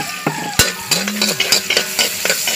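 Garlic frying in a pan until golden brown while cooking chicken feet, a short burst of close sizzling punctuated by sharp utensil knocks and scrapes against the pan.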